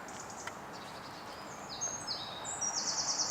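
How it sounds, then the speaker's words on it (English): Faint, high chirps and short song phrases from birds at sunrise rise over a steady background hiss, distant and sparse, growing a little busier toward the end. "it's lovely sitting here and listening to the birds"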